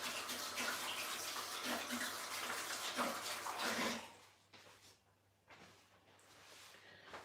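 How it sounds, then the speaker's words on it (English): Hands are washed under a running kitchen tap, a steady close gush of water for about four seconds, then the flow stops and a few quieter splashes and drips follow. "I'm gonna wash my hands."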